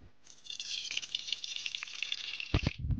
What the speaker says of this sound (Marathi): मित्रांनो, आता आपलं तेल तापले तर आपण टाकायचा खडा मसाला.